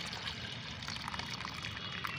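Plain water poured to dilute homemade liquid plant fertilizer, a continuous close splashing pour with a bright liquid rush.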